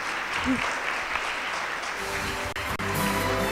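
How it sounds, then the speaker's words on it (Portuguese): Audience applause for visitors at a live youth Sabbath School service, a steady broad wash of clapping that holds throughout and swells slightly near the end. "Eu vou pedir uma salva de palmas para as nossas visitas hoje."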